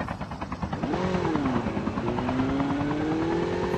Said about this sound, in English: Okay, that's a helicopter.